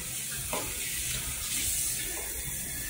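Warm water runs and splashes steadily, as from a tap or rinsing gauze during a facial cleansing routine, forming a continuous close wash without speech.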